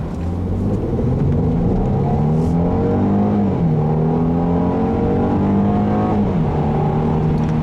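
A 2016 Mercedes-Benz E400 Coupe accelerates hard at full throttle, its engine note loud and close, climbing steadily in pitch and dropping at each upshift before rising again.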